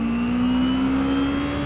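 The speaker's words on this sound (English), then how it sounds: "Nice Porsche for you." A Porsche car passing with a steady revving engine tone, moderately loud and continuous, heard alone without talk.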